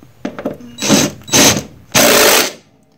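A ratchet on a wobble extension threads a nut back onto a car battery cable connection during an electrical upgrade, heard as a few light ticks followed by three loud bursts of rapid close ratcheting.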